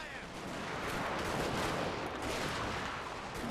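Massed musket and rifle fire from troops in the battle game Total War: Shogun 2 - Fall of the Samurai, a dense, continuous crackle of overlapping shots with no pauses throughout.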